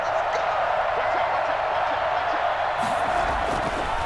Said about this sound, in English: Listen to this crowd now.